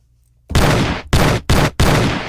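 Four loud, booming bursts of gunfire as a sound effect, each a harsh blast with a short decaying tail, following a half-second of near silence.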